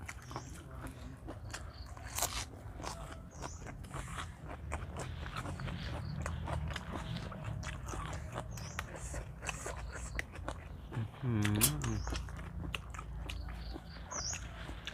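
Crunchy bites and chewing of dried squid tentacles eaten with spicy papaya salad in a cool outdoor setting beside a pond, close and repeated, with footstep-like rustles and low background noise throughout.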